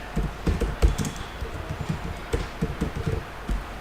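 Code is typed on a computer keyboard in a steady patter of close, clicking keystrokes with occasional heavier taps, continuous for several seconds without voices.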